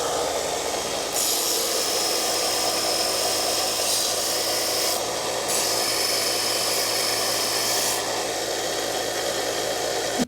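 A TIG welding tungsten electrode tip is ground on a powered grinder, giving a continuous loud rasping whine with a steady motor hum. Brief bursts of higher hiss come as the tip is pressed on, and no one speaks.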